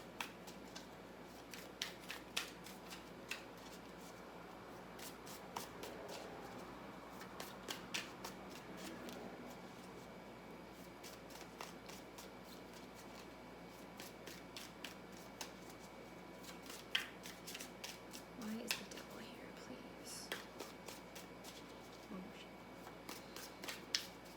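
Tarot cards are shuffled quietly up close as a single clarifying card is drawn during a reading. Soft, repeated riffling and flicking runs throughout, with a low voice murmuring at times.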